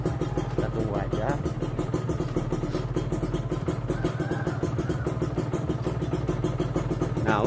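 A motorcycle engine idles while a phone charges from the bike, giving a steady, even mechanical hum that holds close and constant throughout, with a voice briefly heard over it.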